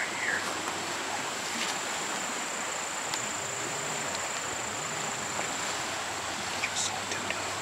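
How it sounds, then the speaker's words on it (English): A woodland creek flows as someone crosses it on a hunting trip, a steady broadband rush of running water with occasional small splashes, close and continuous. "Crossing this creek right here."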